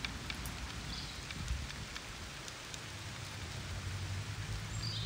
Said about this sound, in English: the sound of the rain in this particular mind session will be lower